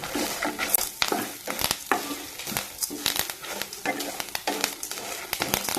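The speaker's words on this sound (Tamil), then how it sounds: "கருவேப்பிலோட பச்சை வாசம் போகிற வரைக்கும் நல்லா வதக்கணும்" Curry leaves sauté in hot oil in a pan while cooking brinjal and dried fish kulambu. A continuous crackling sizzle is broken by irregular scraping stirs, moderately close and with no talking.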